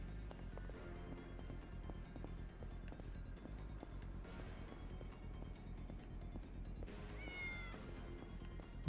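A cat in a Yakuza video game meows a few times over continuous game music and ambience, the calls fairly clear against the steady background.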